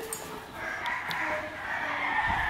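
A fighting rooster, a handsome cock bred and selected for game lines, crows once at close range, the call rising over a steady rural background.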